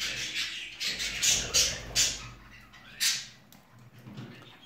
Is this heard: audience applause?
no